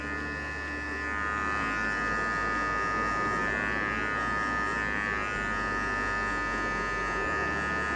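An electric hair clipper with a 0.5 guard trims a short beard, a steady close buzz that hums on for the whole stretch with slight shifts in pitch as the blade moves through the hair.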